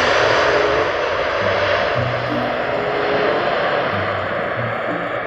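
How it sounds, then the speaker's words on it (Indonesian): A propeller airplane drones overhead, a loud steady engine hum with a faint whine that holds throughout without fading. "Ada pesawat terbang."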